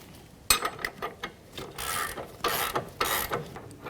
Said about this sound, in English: Now I'm going to attach the back nut on the rear bolt